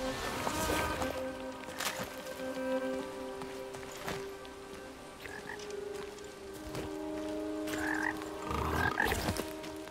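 A toad croaks in the video game Blacktail, its short rasping calls coming several times over a low, steady ambient bed of game sounds.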